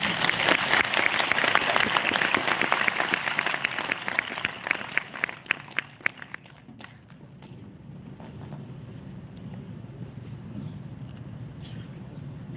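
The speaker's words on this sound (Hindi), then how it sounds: "तब भी इतनी ही कंजूसी से ताली बजा दोगे।" Audience clapping at a Hindi-language business training session, brisk applause from a modest crowd that starts strong, thins into scattered claps around the middle and gives way to quiet room tone.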